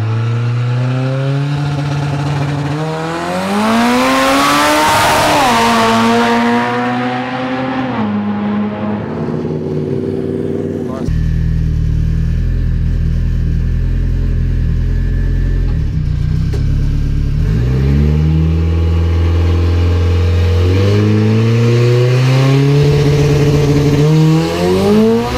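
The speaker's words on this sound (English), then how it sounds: "This car's 60 foot is why I prefer quarter mile races, but with my tires up in smoke, Abe earned that one fair and square." A drag race car roars down the quarter mile, its engine climbing loudly through rising gears, then a harsh, gritty burst of tire-smoking power before the revs climb again, close and loud.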